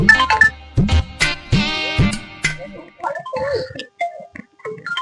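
A mobile phone ringtone plays a short, bright electronic melody up close for about two seconds, then a voice starts talking once the ringing stops.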